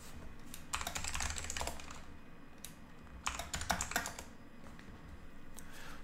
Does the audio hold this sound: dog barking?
no